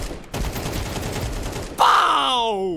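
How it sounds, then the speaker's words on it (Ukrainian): Gunfire in Counter-Strike 2 rattles as a rapid, dense burst of shots, followed by a brighter, ringing, descending tone. The sound is close and loud and fills the whole short stretch. "Бро, ти по кому стріляєш?"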